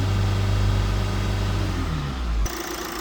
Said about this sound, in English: We're just going to get the car started and test that.